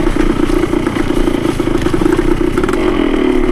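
A Yamaha CT3 175 motorcycle engine drones loud and close while riding, a steady buzzing two-stroke note with constant mechanical clatter and no pauses.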